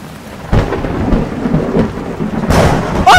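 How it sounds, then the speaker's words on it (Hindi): A rumble of thunder breaks over steady heavy rain, with a louder crack near the end; close, dense downpour throughout. "बाहर मौसम खराब है, बिजली कड़क रही है"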